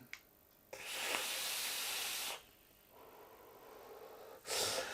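Vapor from a vape is exhaled in two long, steady breathy hisses, a softer puff between them and a final short burst, close and fairly quiet with no talk.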